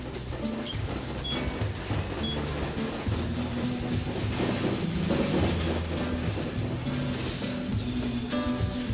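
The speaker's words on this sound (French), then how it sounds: "les wagons chargés de minerais continuent de défiler" Ore-laden railway wagons at an Amazon rainforest mine roll past in a steady, continuous rumble with faint clattering from the wheels, loud and close throughout, with no voices.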